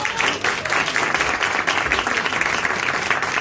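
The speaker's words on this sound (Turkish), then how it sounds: "Fırat'a bir alkış." A room of people at a real estate training camp claps loudly and continuously, a close, busy patter of many hands with no pause from start to finish.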